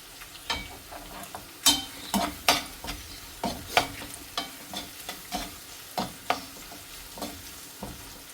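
Sliced onions frying in oil with two or three dried Kashmiri chillies, stirred in a pan: steady sizzle broken by a regular series of sharp spoon scrapes and clacks against the metal, close and fairly loud, no voices.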